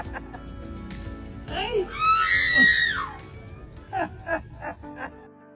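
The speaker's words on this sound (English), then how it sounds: "That doggy screams like a human during a scare." A dog gives a high, wavering scream-like cry that rises and falls twice, with a few short yelps and chirps after it and faint background noise throughout.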